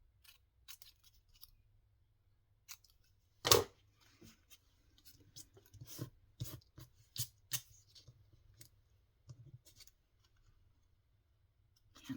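Scissors snip paper pieces in a quiet room, a sparse run of crisp, close single cuts and clicks with one louder snip early and pauses between the rest.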